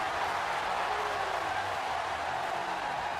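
A crowd roars in a WWE 2K16 wrestling arena as a steady wash of cheering and applause. It stays even and continuous in the background.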